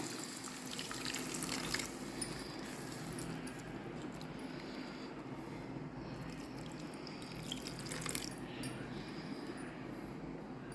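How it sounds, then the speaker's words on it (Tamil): Hot water pours steadily into a pot of masala gravy for kadai paneer, a soft continuous splashing and trickling, close by and fairly quiet. "நான் சுடு தண்ணி தான் சேர்க்குறேன்."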